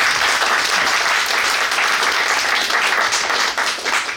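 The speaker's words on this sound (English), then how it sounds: "A round of applause for Daniel" Sustained audience applause at a school presentation event, dense and steady throughout with no pauses, loud and close, with no speech over it.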